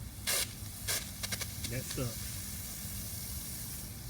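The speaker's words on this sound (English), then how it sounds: "I got a hole in this hose." Water sprays with a steady hiss from a hole in a garden hose just after the tap is turned on, with a few sharper spurts. A person speaks briefly over it.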